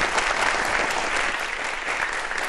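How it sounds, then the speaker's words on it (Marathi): An audience at a startup event claps loudly and steadily, dense applause filling the room from start to finish with no talk over it. "एकदा जोरदार टाळ्या झाल्या पाहिजे"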